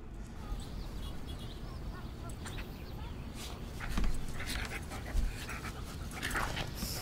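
A cartoon dog in an overly inflated animated animal setting pants with steady, quick, breathy huffs, faint and continuous against a noisy background.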